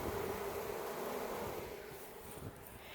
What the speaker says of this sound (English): So yeah, that's the bees.